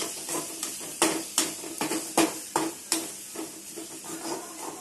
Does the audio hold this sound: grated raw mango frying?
yes